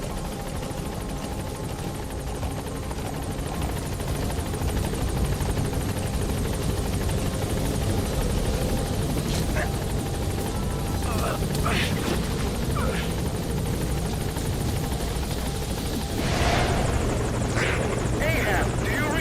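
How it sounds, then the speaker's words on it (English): A support helicopter in a video game arrives at a landing zone, its rotor drone steady and loud throughout, swelling slightly near the end, with indistinct voices beneath. "Support helicopter has arrived."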